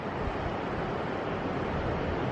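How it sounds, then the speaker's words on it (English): Steady, broad rush of ocean surf at a beach with light wind, continuous and fairly close, no voices. "We're gonna look out at the waves"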